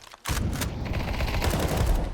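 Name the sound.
gunfire spray in Counter-Strike video game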